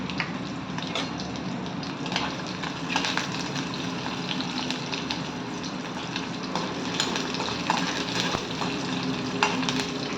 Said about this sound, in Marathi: गोल्डन कलर येईपर्यंत आपण छान फ्राय करून घेणार आहोत पनीरला।